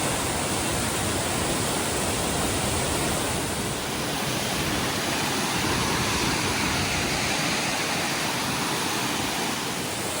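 A steady, roaring wash of falling water, loud and constant throughout, heard from the top of a waterfall in Bulgaria or Spain, with no voices.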